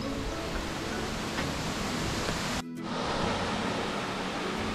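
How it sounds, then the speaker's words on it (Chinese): Mountain water rushes down the rocky Tai Shing Stream in a constant close roar, briefly muffled for a moment midway before the full steady rush returns. "咁啲流水源源不絕喺下邊，喺上邊沖緊落嚟"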